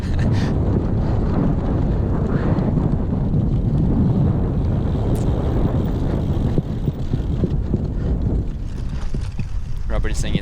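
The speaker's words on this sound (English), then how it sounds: "The tape, the wind is blowing, but it's not a cool wind." Wind blows hard across a microphone during a SoCalCross cyclocross race, a loud, continuous broadband rumble and buffeting that stays dense throughout with no clear speech.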